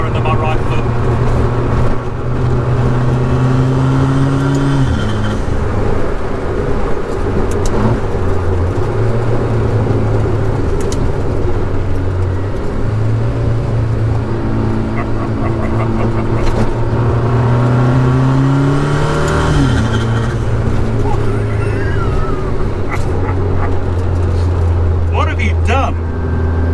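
A 450-horsepower rear-wheel-drive electric Mini with a DSG gearbox accelerates hard, its motor whine climbing steadily in pitch and dropping at gear changes over road and wind roar, with people talking throughout.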